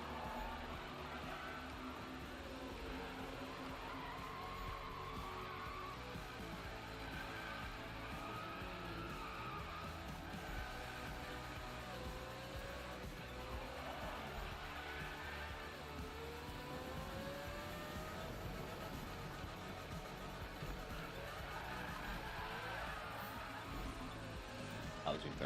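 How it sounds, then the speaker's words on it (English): Tires squeal continuously as a car drifts through a bend in the Need for Speed 2015 racing game, with engine drone and wavering skid tones running steadily under the whole stretch. "That was a very good drift."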